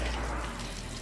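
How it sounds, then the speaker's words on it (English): Water pours steadily from universal-fit flushing adapter fixtures on a Tracker Pro 170 boat motor, a continuous broadband splashing rush at close range with no talking. "You're going to see now that water is coming out of the fixtures."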